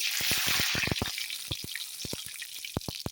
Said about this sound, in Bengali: ফোড়নটা ভাজা হয়ে গেল এই রকম ভাজা হয়ে গেছে